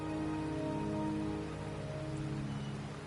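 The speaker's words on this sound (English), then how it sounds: "The rain is subsiding, and the sky will soon clear." Steady rain falling in the video game Wuthering Waves on PS5, a constant dense patter filling the whole stretch, with soft sustained musical tones running underneath.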